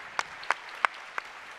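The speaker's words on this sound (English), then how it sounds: "I guess you needed a round of applause for that." A few sharp, evenly spaced handclaps from an audience at the Global Climate Action Summit, four distinct claps over under two seconds with quiet room tone between them.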